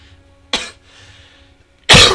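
Two harsh coughs from one person during a World of Tanks Generals card game session, the first short and the second louder and fuller, separated by about a second of quiet room noise.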